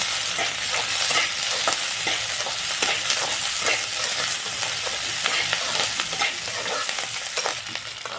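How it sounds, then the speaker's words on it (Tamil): Onions and green chillies sautéing in a pan with roasted chana dal and urad dal: a steady, loud sizzle with scraping stirring strokes throughout, no voices. "இப்போ வெங்காயம், பச்சை மிளகாய் சேர்த்துக்கலாம்."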